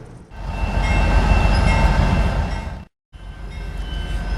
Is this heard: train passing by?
yes